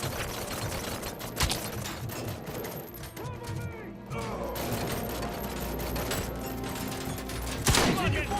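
Dense, continuous gunfire in the Robocop: Rogue City video game, with rapid bursts and louder shots amid clattering action, and voices speaking between the shots.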